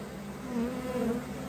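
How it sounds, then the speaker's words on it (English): Honey bees fan at the entrance of a hive box just after a queen is placed inside, producing a dense, close buzzing hum that rises a little in the middle of the short stretch, with no voices. "I just put the queen in this box, and look at the bees fanning."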